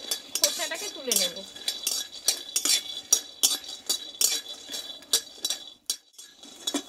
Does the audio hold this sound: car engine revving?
no